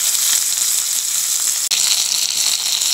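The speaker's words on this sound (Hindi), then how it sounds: "अब इसका दूसरा साइड हम फ्राई करेंगे।" Fish fillets sizzle steadily in hot oil in a pan after being turned to fry the second side, a loud, continuous crackling hiss with one brief dropout, no talking.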